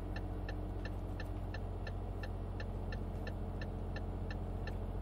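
A truck's turn signal ticks steadily and evenly in Euro Truck Simulator 2, sounding at regular intervals over a constant low engine drone with no voices.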